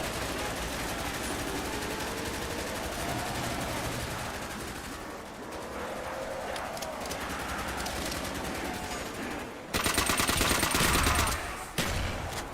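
Rapid, continuous light machine gun fire in Team Fortress 2, a dense rattling burst that runs steadily, thins briefly midway, then swells into a louder, harsher stretch near the end, with no talk over it.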